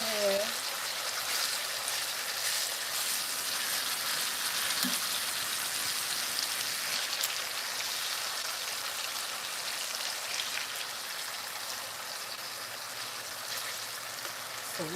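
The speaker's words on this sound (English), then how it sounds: "So we're going to sear this." Chicken pieces, breast and thighs, searing in a crowded pan for Jamaican curry chicken, giving a steady dense sizzle that fills the whole stretch, close and even in loudness.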